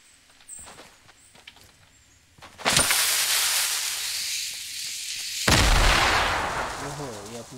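Grenade blast in Fortnite: a few light footsteps and taps, then a sudden loud explosion with a long rumbling decay, followed by a second heavy burst and crackling aftermath.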